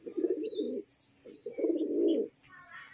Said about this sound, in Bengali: পুরো গরম পায়রা রয়েছে, একটা লাল ম্যাড্রাস।